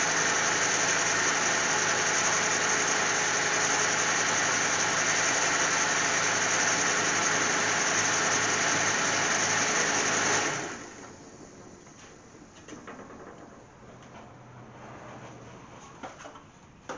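Cadillac CTS engine idling steadily and loudly up close for about ten seconds, then shut off, leaving a quiet background with faint sounds.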